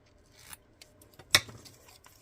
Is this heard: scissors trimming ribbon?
yes